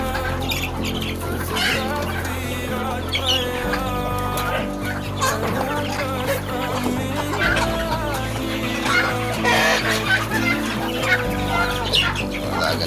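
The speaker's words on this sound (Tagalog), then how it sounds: "Alaga natin mga manok." Farm chickens cluck and squawk near and far in a busy, overlapping chorus over a steady low hum.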